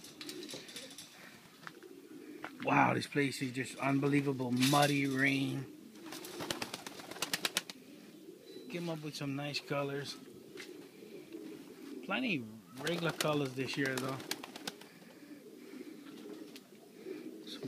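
Pigeons coo steadily in a loft housing old breeder birds and young racing pigeons, soft throaty calls running beneath someone talking throughout.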